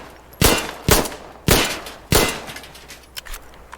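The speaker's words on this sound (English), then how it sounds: "In Insurgency, you can double tap R and you do a speed reload." The Tariq handgun in Insurgency: Sandstorm gets a speed reload, heard as four sharp metallic clacks about half a second apart, then a few softer clicks as it finishes.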